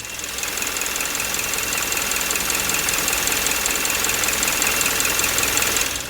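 A running Hyundai Grandeur HG 2.4 engine hums and knocks steadily, with a faint high-pitched squeal from the drive belt riding over the constant mechanical clatter.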